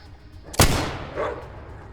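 A single loud gunshot or blast from enemies in the video game ATOM RPG, sharp and near, then a rolling tail and a fainter second report about half a second later.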